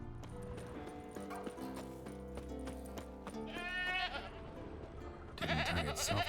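A goat tied to a stake as forktail bait in the video game The Witcher 3: Wild Hunt, a wavering bleat rising near the middle over a bed of game music and ambience, followed by a louder burst at the end.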